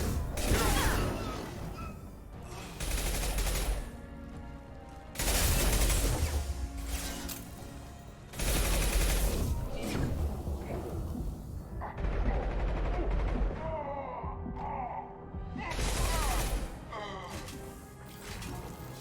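Incendiary gunfire in Mass Effect 2, loud bursts of weapon fire and crashing impacts recurring every few seconds across a chaotic firefight, with voices talking over the action.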